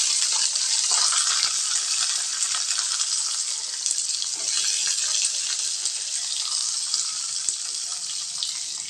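Chopped onions and curry leaves frying in a pan for a broad bean kootu: a continuous bright sizzle with occasional stirring scrapes, steady and close throughout.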